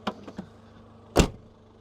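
A car's rear tailgate with a broken soft-close mechanism is slammed shut by hand: a few light clicks of handling, then one solid thud, close and alone.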